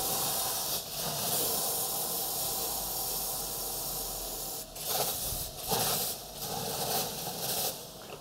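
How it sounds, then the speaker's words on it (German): Water poured over hot lava stones in a dish at the bottom of a baking oven bursts into a loud, close steam hiss that runs steadily and then breaks into several short surges. "Wasser aufgießen, damit Dampf entsteht."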